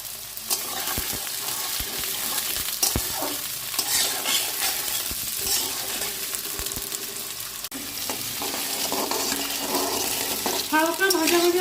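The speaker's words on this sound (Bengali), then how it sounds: "এখন এর মধ্যে গাজরের টুকরোগুলো দিয়ে ভেজে নেব" Carrot pieces and sweet potatoes frying in hot oil, giving a loud, steady sizzle with scraping stirs of a spoon and occasional clatter close by.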